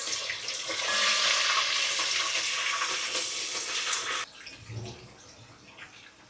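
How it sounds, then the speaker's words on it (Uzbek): Onions for qozon kabob sizzle and crackle loudly in hot oil for about four seconds, then the sound drops abruptly to a quieter background with a faint clatter. "Qizlar piyozimizni qovurib olamiz birinchi."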